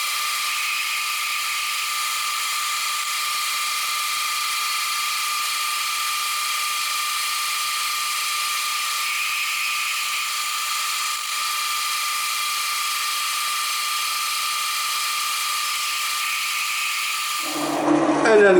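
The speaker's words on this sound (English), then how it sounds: "all I have to do is raise the table, bring my drill bit down" A milling machine drill bit bores into a metal clamp with a steady, high, whining tone held for many seconds, then a brief clatter and rise in noise at the end.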